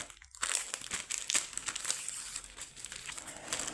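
Plastic packaging of an embroidery embellishment pack for cross-stitch crinkling and rustling continuously as it is opened up close, with no talking.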